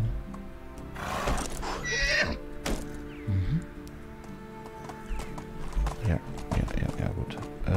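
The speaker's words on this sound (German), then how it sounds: "Ach, warte, ich habe ein Pferd dabei." A horse in the video game Medieval Dynasty whinnies loudly, then its hooves clip-clop in uneven steps, while someone talks over the sounds.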